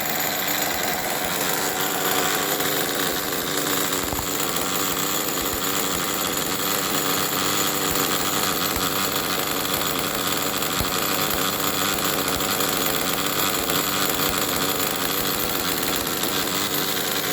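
A small nitro engine runs steadily at idle throughout, a constant buzzing drone with slight mechanical rattle and no break.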